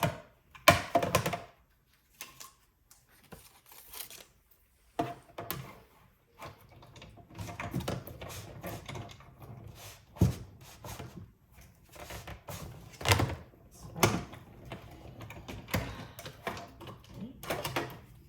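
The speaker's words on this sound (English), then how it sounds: "So we're gonna go ahead and run that through the Stampin' Cut and Emboss machine next." A Stampin' Cut and Emboss die-cutting machine is hand-cranked for card making, giving repeated close mechanical thunks and clicks in an irregular rhythm, with quiet gaps between bursts.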